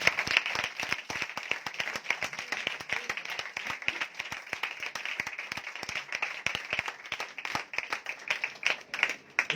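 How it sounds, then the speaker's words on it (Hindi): Church congregation at a Sunday meeting breaks into sustained applause, a dense patter of many hands clapping steadily at moderate loudness with no talk over it. "उस बादशाह के लिए मैं चाहता हूं जोरदार तालियां।"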